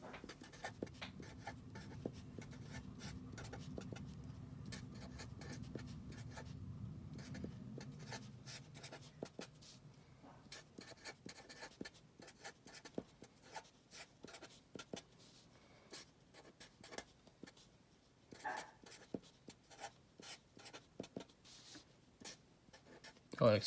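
Calculations written out by hand with pen on paper, a quiet stream of scratchy strokes and taps, close and faint, with a low hum early on.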